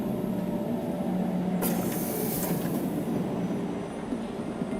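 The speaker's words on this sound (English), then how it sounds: "They have this tram flying through the city" A tram glides through the city in the video game Star Citizen, giving a steady rumbling rail-car drone with a brief high squeal partway through, with no talking over it.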